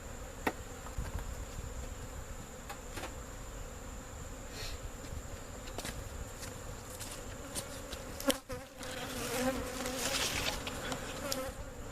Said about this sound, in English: all these field bees hanging out here trying to figure out what they're going to do.